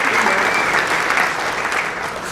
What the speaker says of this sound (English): Give her a round of applause for being a great sport.